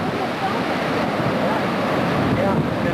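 Ocean surf crashing against and over a seawall on the Oregon coast, a steady loud roar of breaking waves and wash with wind noise, continuous throughout.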